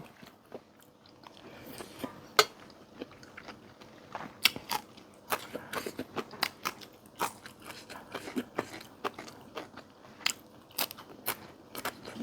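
Close, crisp crunching from someone chewing northern Thai sai ua sausage, with irregular bites and crackles repeating steadily, quiet otherwise and without talk.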